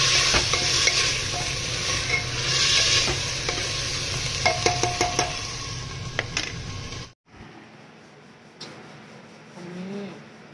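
Onions and chickpeas cook in a pan, giving a loud, close sizzle with repeated scraping strokes of a spoon stirring through them, before the noise drops away sharply into near quiet with faint clatter.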